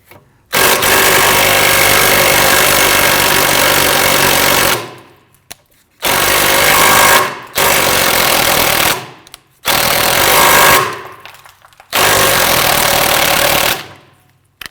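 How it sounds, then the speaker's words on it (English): Power tool driving a 15mm socket to remove the rear sway bar end link nut on a 2009-2017 Volvo XC60, loud and close, running in four long bursts of a few seconds each with short pauses between. "We're going to use our 15mm socket to loosen and remove this nut."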